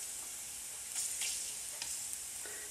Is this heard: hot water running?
no